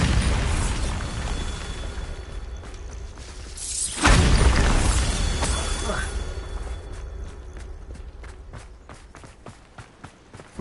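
A Bombarda spell explosion in Hogwarts Legacy erupts as one loud, booming blast partway through, then decays into a crumbling rumble with scattered rattling debris clicks, set against a steady backdrop of game ambience.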